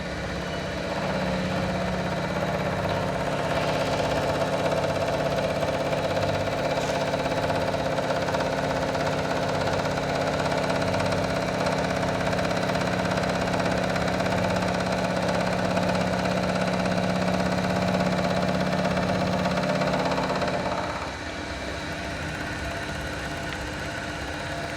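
A milling machine runs steadily, cutting a metal surface flat with a continuous droning hum and a constant whine for about twenty seconds, then drops to a lower, quieter tone near the end.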